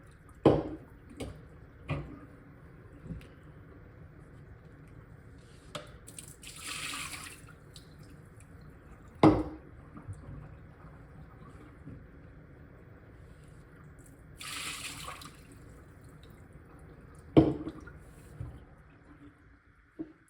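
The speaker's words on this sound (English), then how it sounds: "Then we're gonna take the old filters out over a sink, dump out any water that's in there." Water is dumped from used reverse-osmosis filter housings into a sink, with short splashes and a couple of brief gushes between sharp knocks and handling clatter, close and without talk.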